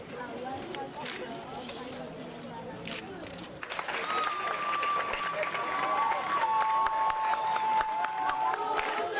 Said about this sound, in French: Une exécution magistrale fort applaudie par les administratifs d'Orange.